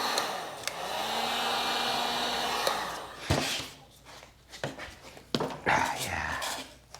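A heat gun or similar blower runs steadily for about three seconds on a stuck part of a 2001 Seadoo RXDI personal watercraft, then cuts off, followed by clanks, handling noises and breathing.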